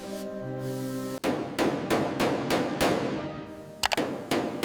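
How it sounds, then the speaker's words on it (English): A low humming tone gives way to a steady series of ringing metallic hammer blows on the bonnet panel of a 1935 Rolls-Royce Phantom II, struck with a hammer at a regular pace close by. "The artisan uses a special olive and hammer."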